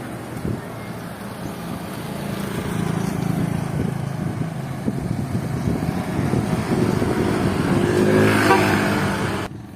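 A 3000W 60V hyper scooter hub motor runs under test after repair, a loud continuous electric whir and rumble that swells in intensity and holds near full power before cutting off.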